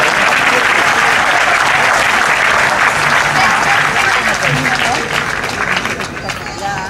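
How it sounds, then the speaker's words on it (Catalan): An audience at a Festa Major proclamation event in Puig-reig, 2014, claps for school students in steady, dense applause that stays loud and continuous throughout, fading slightly near the end with crowd noise mixed in. "Demano un aplaudiment pels nois i noies que ara intervindran."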